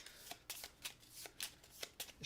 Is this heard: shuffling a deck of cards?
yes